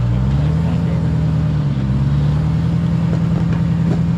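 A car engine holds a loud, steady low drone with the brake held, its pitch rising slightly under light throttle and staying even to the end.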